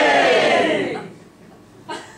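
A room full of people at a pet bereavement counsellor's talk cheers loudly, the roar fading over about a second, then a brief smaller burst of cheering rises again near the end.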